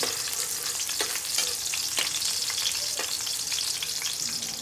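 Aromatics such as garlic and onion sauté in hot oil in a pan for ginisang upo with sardines, making a steady, loud sizzle with occasional stirring clicks and scrapes. No one speaks.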